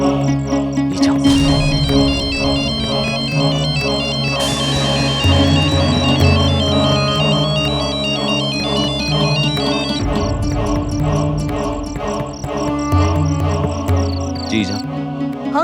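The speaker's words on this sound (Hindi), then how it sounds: "किसका फोन है?" A mobile phone ringtone plays loudly and steadily, a repeating electronic melody with layered chiming tones, with dramatic background music blended underneath.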